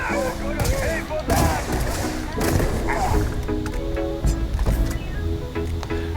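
Va'ruun Starshard beam weapon fired in Starfield, a loud, sustained stream of bursts and sharp cracks over game effects, with a voice talking underneath.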